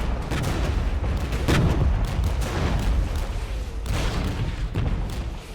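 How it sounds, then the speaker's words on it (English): Dug-in tanks firing in the Steel Division strategy video game, with repeated heavy booms and gunfire over a dense rumbling battle bed, loud and continuous with no talking. "And my dug-in tanks can fire away."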